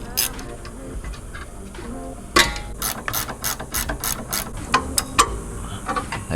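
A hand ratchet loosens the front sway bar end links on an MK8 Golf R, with a quick run of close, sharp clicking strokes in bursts after a quieter start.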